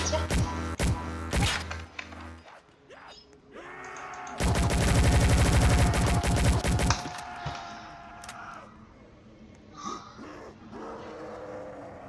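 Video game gunfire as a character shoots at zombies: a few sharp shots open, then a loud dense burst of rapid fire mid-clip, followed by scattered quieter game effects.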